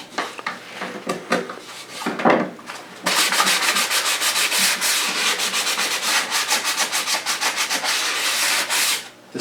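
Sandpaper scrubs a leftover clump of glue off a wooden guitar lining. Quicker, irregular rubbing comes first, then steady, fast back-and-forth strokes run close and loud for most of the stretch.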